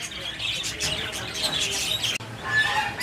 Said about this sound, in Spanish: es una guacamayo arlequín